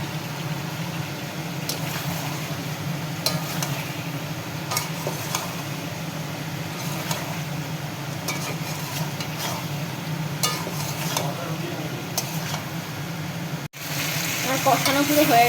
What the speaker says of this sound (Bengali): পটল ভেজে রাখা পটলটা আমি এতে দিয়ে দেবো, দিয়ে একটু কষবো।